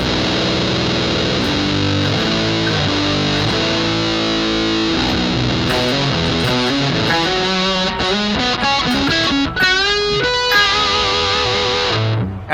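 Electric guitar through a metal distortion effect on a Boss GX-100 in the amp's send/return loop, playing chords and a descending run, thick saturated tone throughout, loud and continuous with no talking.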